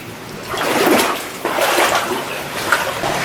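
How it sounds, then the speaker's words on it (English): Water rushing and splashing inside an abandoned mine, an echoing wash that surges in a couple of swells with softer trickling in between, moderately close. "So I hear a lot of rushing water over there"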